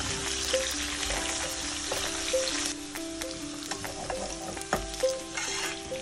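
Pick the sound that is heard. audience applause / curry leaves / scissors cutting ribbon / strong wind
curry leaves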